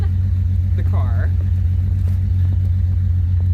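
1981 Ford Mustang engine warming up after a double-roller timing chain installation, a steady loud low idle rumble with an even pulse running throughout, heard close up while someone talks over it.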